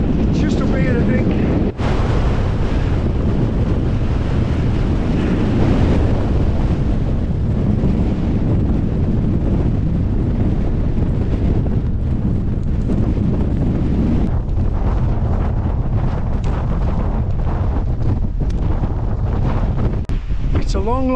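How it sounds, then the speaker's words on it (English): Strong wind in a mountain blizzard on Great Dodd in the Lake District roars continuously and loudly against the microphone, buffeting hard, with a person talking at times underneath. "It's hard ice, it's absolutely smashing my face to bits, and the wind's in my face."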